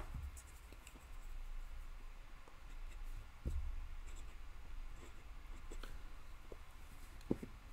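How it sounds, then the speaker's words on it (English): Quiet scratching of a pen or marker writing in green, faint and close with small irregular strokes and taps against a low steady hum. "Let me actually write that in green."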